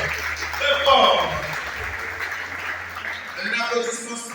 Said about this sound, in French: On vous demande de l'applaudir très très très fort, s'il vous plaît